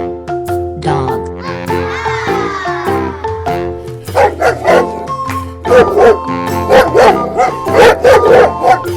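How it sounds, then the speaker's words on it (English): A dog barks in quick bursts, loud and close, over light backing music; a short voice is heard early. "Dog."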